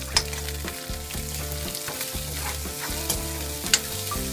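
Garlic, onions, green chilies and ginger paste sauté in a pan with a steady close sizzle and occasional stirring scrapes, alone without voices.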